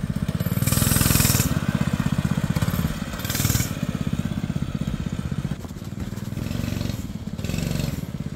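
Mini bike engine revved hard at full throttle, a loud, steady buzzing roar that surges in repeated waves and stays up close throughout.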